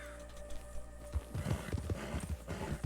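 Horse hooves clip-clopping in the RedM game world, a steady run of close, moderately loud hoofbeats that grows busier partway through, with no talking over it.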